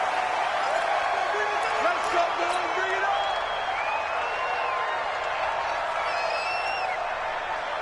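A roaring stadium crowd at a Seattle football game against the Rams, a steady, deafening wash of cheering and noise with commentators talking over it throughout.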